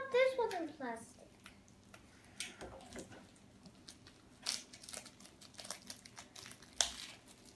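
Plastic wrapping on a Shopkins toy crinkles and tears in quick, scattered bursts as children talk and exclaim excitedly over the rustling.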